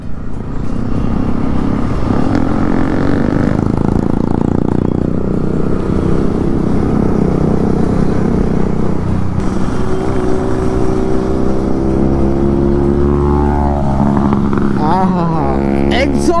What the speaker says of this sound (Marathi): एक्झॉस्टचा आवाज आहे ना मित्रांनो, एक नंबर वाटतात